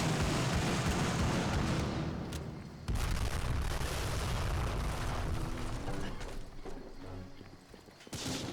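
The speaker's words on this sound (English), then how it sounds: "Oh, that's the anti-air gun." An anti-air gun fires in the video game Medal of Honor: Frontline, heavy booming bursts over dense, loud battlefield noise that persists throughout, with a sharp break near the middle.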